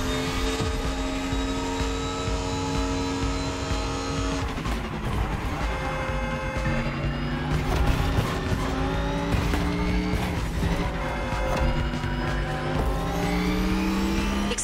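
Race cars in the driving game The Crew Motorfest roar steadily on a long island race, engines droning and shifting pitch with occasional tire squeal, loud and continuous throughout with no talk.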